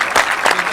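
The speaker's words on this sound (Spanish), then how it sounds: "Ahí recibe Gonzo los aplausos de la grada." A brief, close burst of clapping from the spectators in the stands at a men's Galician league rugby match, short and uneven.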